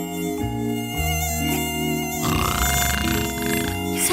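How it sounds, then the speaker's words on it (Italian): A mosquito whines in a cartoon superhero vampire tattoo parlour, a thin steady buzz laid over loud tonal music that shifts partway through, with no talk. "Sento un ronzio."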